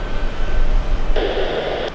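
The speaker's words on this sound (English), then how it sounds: "the C-17 Globemaster, that's the third C-17 in the past few minutes, and it was on the takeoff roll" C-17 Globemaster military jet on its takeoff roll, a steady broad engine roar in the distance with a brighter rise in whine partway through, heard alone with no talk.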